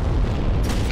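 A land mine explosion in the video game Heroes and Generals: a loud, deep booming blast fills the moment, dense and rumbling, with a brighter crackle rising at the end.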